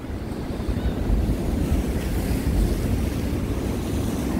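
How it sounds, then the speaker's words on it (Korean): Rough sea waves crash against the breakwater at Imwon port in Samcheok, heard as a loud, continuous roar with heavy wind rumble on the microphone. "파도가 망파제에 부딪혀서 높이 솟아오르고 있습니다"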